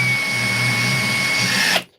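A Flex cordless drill drives small screws into wood with a steady, close, high-pitched motor whine that holds evenly and then cuts off abruptly near the end.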